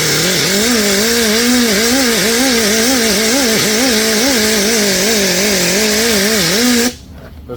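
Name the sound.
Scotch-Brite pad on whizzer wheel polishing rusty cylinder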